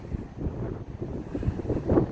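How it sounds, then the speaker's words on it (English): Steady gusting wind buffets the microphone in a low, rumbling roar, with no voices, continuous throughout. "Down here where I'm standing next to the beach, it is windy and cold."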